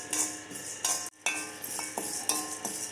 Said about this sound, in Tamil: கடலைப்பருப்பு இந்த மாதிரி சவக்க வறுத்துடுங்க